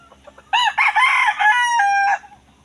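A nearby chicken lets out a loud, rising series of squawking clucks for about a second and a half, then goes quiet.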